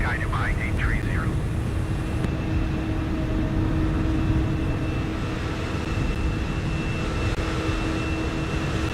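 Airliner taxiing toward the gate in a flight simulator game: a steady, low engine drone with a constant hum runs throughout, and a brief voice-like chirp is heard near the start.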